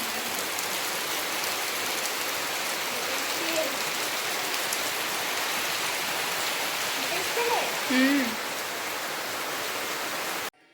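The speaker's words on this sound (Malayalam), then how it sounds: "നല്ല മഴ വരുന്നുണ്ട്" Heavy rain pours down in a steady, dense hiss that holds evenly throughout and stops abruptly at the end, with faint brief sounds that may be voices.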